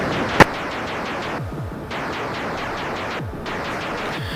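Shooting in Defender from Williams Arcade's Greatest Hits on Sega Genesis: a steady roar of arcade noise with a sharp blast near the start and repeated descending laser zaps, loud and continuous without voices.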